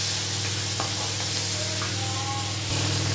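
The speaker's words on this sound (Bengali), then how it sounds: "মাছটা আমার ভাজা ভাজা হয়ে গেছে। এবার আদা জিরা রসুন বাটা দিয়ে দিলাম" Ginger, cumin and garlic paste sizzles loudly in hot oil among fried prawns, a continuous close hiss with faint stirring scrapes and no voices.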